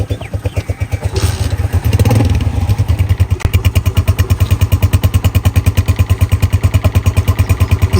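A Honda CG125 motorcycle engine runs close by, settling into a fast, even single-cylinder thumping beat after a brief rise in revs, loud and steady with no talk.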